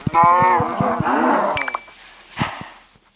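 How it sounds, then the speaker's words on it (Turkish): A Minecraft cow moos loudly and close, a long drawn-out low call, followed by a fainter second moo and a bell ding. "Bakın buralarda inekler falan da varmış."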